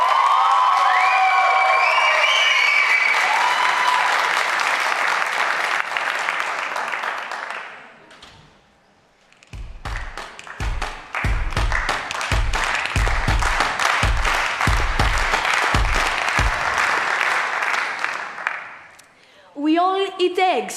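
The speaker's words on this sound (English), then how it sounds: "Let's give a big, big applause to Cyprus." Applause and cheering from a stage presentation audience swell loudly, dip briefly, then return as dense rhythmic clapping with whoops, fading out near the end.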